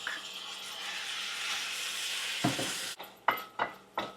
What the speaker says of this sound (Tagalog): And now I will add the ground pork.